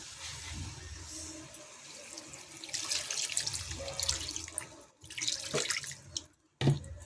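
Fish curry broth pours into a pan in a continuous watery splash and trickle, steady and close, with a few sharper spatters near the end and no talk.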